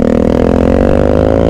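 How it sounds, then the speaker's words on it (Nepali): A motorcycle on an adventure ride up to Mohare Dada drones loudly and close, its engine holding a steady, throbbing note that climbs slightly in pitch. "बाइकको साउन्ड सुन्न सक्नुहुन्छ गाइस तपाईँले"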